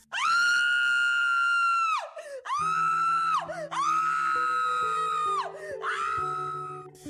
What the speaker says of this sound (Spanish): solo se escuchaban los gritos desgarradores de Laura